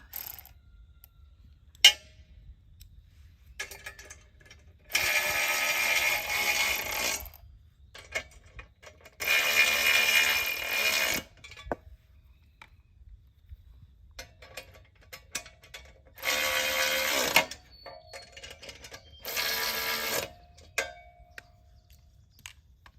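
Wrench or ratchet tightening nuts and bolts while assembling a Do All Outdoors Flyway 80 automatic clay pigeon thrower with wobbler base, heard as four loud bursts of rapid metallic ratcheting separated by quiet pauses and small clicks.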